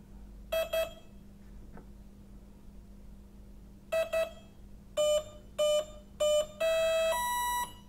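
A brushless motor ESC gives a series of electronic tonal beeps during prop calibration on a 3-cell setup: two short double beeps, a pause, then more double beeps and a run of evenly spaced single tones ending in a longer multi-tone chime.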